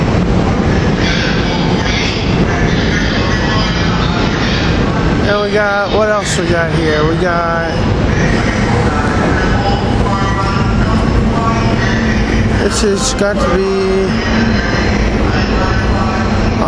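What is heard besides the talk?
commuter rail trains passing at 30th Street station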